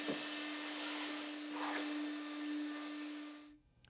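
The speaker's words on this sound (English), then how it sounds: "we want to go ahead and sweep and vacuum all of the sand off" A vacuum cleaner drones steadily while sucking sand off a concrete floor before a self-leveling overlay goes down, with a constant tonal whine and gritty rattles, then shuts off abruptly.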